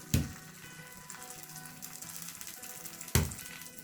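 Eggs fry on slices of bread in a pan with a soft, steady sizzle. Two sharp knocks, one near the start and one near the end, sound over the frying, and no one speaks.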